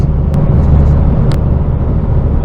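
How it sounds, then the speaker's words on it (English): A steady low engine hum and road rumble inside a moving car cruising at about 2000 RPM, constant and unchanging, with a couple of faint clicks. "keep it around 2000 RPM and just cruise for a couple of minutes"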